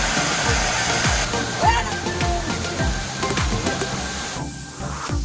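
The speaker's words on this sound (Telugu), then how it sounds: "చూసారా, ఇక్కడ నుంచే వాటర్ అనేది ఫ్లో అవుతుందన్నమాట." Water rushing at Dharapalli waterfall in East Godavari, a loud, close, continuous roar with wind buffeting and a voice speaking over it.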